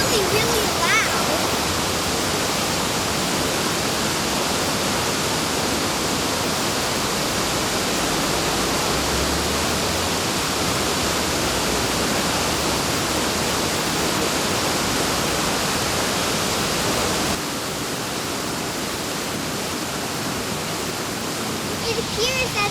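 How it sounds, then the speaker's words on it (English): Tumwater Falls roars in a continuous, loud rush of falling water, dense and unbroken throughout, shifting slightly in level near the end. "now we're here at the actual waterfalls, and it's actually really beautiful. You can see it is really, really loud."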